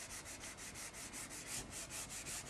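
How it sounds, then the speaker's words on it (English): Steady rhythmic rubbing of an eraser across a board, wiping out written maths examples, a dozen or so even back-and-forth strokes, close and fairly quiet with no talking. "I'll rub out these first three because we've done them."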